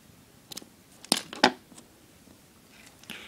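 Scissors snip through a rolled paper piece for jewelry making, a few crisp close cuts with two louder snaps in the middle, followed by quieter paper rustling.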